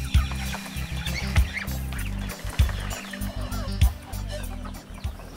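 Broiler chickens on a farm cluck and call repeatedly in a dense, close flock, with rhythmic low thumps and a steady background hum; a voice speaks over the birds.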